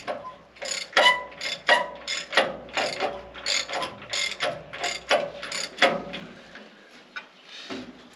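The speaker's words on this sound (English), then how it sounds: "Now we can use a ratchet and spin these guys out." Hand ratchet spinning out large bolts during removal of the electric motor and gearbox from a LeTourneau Tournapull D scraper bowl; rapid bursts of close, sharp clicking, repeated several times with brief pauses between.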